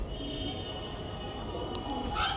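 Madras and Giribaj pigeons coo softly and steadily, a low murmuring call under a constant high-pitched background hum, with no talk.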